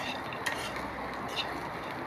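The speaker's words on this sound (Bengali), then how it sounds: "দিয়ে আবার ভালোভাবে নাড়াচাড়া করে নেব" Fried small fish in a curry being stirred in a pan: soft, continuous scraping with a couple of light clinks of a utensil against the metal, heard close but at a low level.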